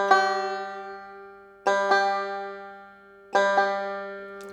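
Banjo string plucked three times while being tuned from below pitch back up: each pluck rings bright and clear and decays before the next, heard close and alone.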